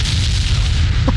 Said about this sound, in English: You're gonna hear an explosion.